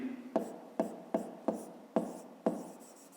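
Pen strokes on paper while writing out a rectangle-area maths solution, six short scratchy strokes at an even pace, close and quiet with no talk over them.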